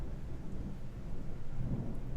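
Low, rolling rumble of thunder during rain, a sustained murmur that swells toward the end of the short stretch, moderately loud and heard alone.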